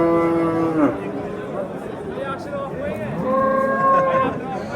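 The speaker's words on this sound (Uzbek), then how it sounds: "mana savdosi bo'layotgan sigirimiz" A cow moos twice nearby at a livestock market, a long low call followed by a second drawn-out moo, with faint background chatter.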